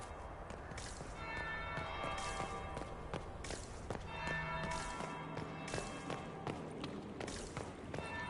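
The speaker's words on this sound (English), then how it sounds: "That would be the second bell" Church bell tolling in Dragon Age: Inquisition, repeated resonant strikes ringing out over a busy game soundscape with footstep-like rustle, steady and moderately loud throughout.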